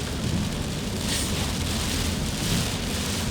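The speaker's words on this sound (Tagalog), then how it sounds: "Las Piñas, Mapasay, Manila ay ganito pa rin ang panahon guys dahil sa bagyo or habagat." Heavy typhoon or monsoon rain in Manila, a dense steady roar of downpour with low rumbling underneath, loud and continuous throughout, no voices.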